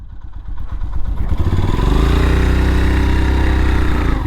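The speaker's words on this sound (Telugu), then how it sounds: "ఎక్కడ బైక్ పార్క్ చేయాల్సింది?" A motorcycle engine runs close by while the bike is parked near the entrance to the Billa Surgam Caves, rising quickly to a loud, steady, throbbing drone that carries on with no talk over it.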